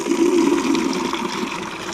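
Well water gushes steadily from a pump system with no pressure at the top and about 25 at the bottom, a continuous close, even rush of liquid with no voices.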